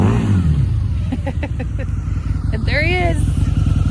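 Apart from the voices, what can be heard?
Harley-Davidson motorcycle engine revving as it is ridden around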